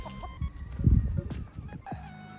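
Broodcock chickens outside give a short burst of nearby clucking, about a second long, over faint background ambience.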